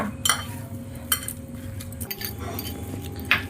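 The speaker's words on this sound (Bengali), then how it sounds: "ঘি দেওয়ার পর এটাকে ভালো করে একটু ঘিটাকে মিশিয়ে নেব" Ghee stirred into a chhena sweet mixture for an Odisha-style baked chhena cake: soft scraping and occasional metal spoon clinks against the pan, close and fairly quiet with no talk.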